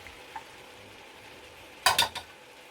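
Sweet pepper drops into a hot pan for Jamaican meatloaf, giving a sudden loud sizzle and clatter that flares for about a second, then fades with a couple of quieter crackles. A quiet kitchen comes before it, with no voices.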